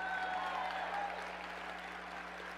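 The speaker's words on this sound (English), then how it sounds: "I need some claps." Steady applause from a large audience at the 2024 Texas Democratic Convention, a dense continuous clapping that holds loud throughout and tapers only slightly near the end.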